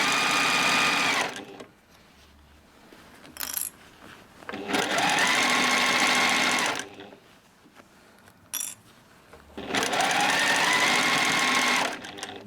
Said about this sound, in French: Donc vous posez votre pied de biche, point avant, point arrière, et vous faites la couture.